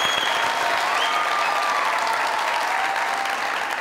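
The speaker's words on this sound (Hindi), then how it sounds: "जोरदार तालियां।" Theater audience clapping loudly and continuously at a comedy show, a dense, even wash of applause throughout with no voices on top.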